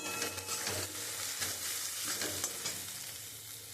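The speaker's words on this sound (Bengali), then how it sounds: "আমি মশলাটা দিয়ে খুব সুন্দর কষিয়ে নিয়েছি" Spices sautéing in a pan with green chillies, dried chillies and turmeric for a bitter-gourd dish with mustard, a steady close sizzle broken by soft stirring scrapes, with no voices.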